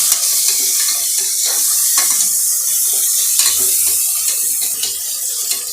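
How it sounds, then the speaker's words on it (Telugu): Mint and tomato frying in oil for a mushroom biryani, a steady close sizzle with intermittent stirring scrapes against the pan, continuous throughout without any voices. "పుదీనా, టమాటో ఇవన్నీ కొంచెం ఫ్రై చేసుకోవాలి ఆయిల్లోనే"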